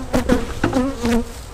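Honey bees buzzing steadily at a honey-bound hive while it is opened for inspection, a close, continuous droning hum with slight wavering pitch and no voices.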